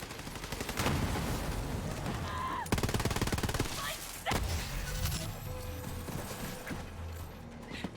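Gunfire from a firefight in Borderlands 3, rapid automatic bursts and sharp single shots close up, with whooshing effects and a brief voice in the mix.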